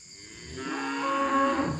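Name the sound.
cow mooing during cattle vaccination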